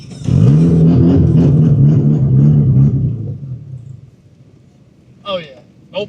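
A Nissan S13 with an SR20 engine, chasing a random misfire, runs with a loud low rumble for about three seconds, then cuts out and stalls into near quiet, followed by two brief sharp sounds at the end.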